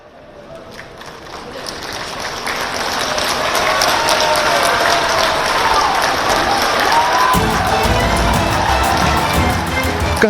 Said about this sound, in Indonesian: Kehadiran politikus PDI Perjuangan Hasto Kristianto disambut riuh tepuk tangan dari anggota Kongres PDIP